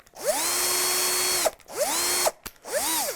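A countersink bit spins into the wood of a guitar kit body in three short bursts, each a sharp whirring whine that revs up, holds, then cuts off, with brief pauses between them.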